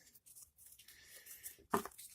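A Kershaw Shuffle knife slicing through MOLLE-type webbing banding, a short soft tearing rasp ending in one sharper crisp cut, quiet and close with no talk.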